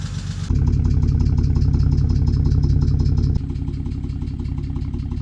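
Cold start of a 2006 BMW N52 inline-six after sitting for a week or two, a steady idle with a rapid ticking lifter clatter on top; a louder surge early settles to a slightly lower, even idle.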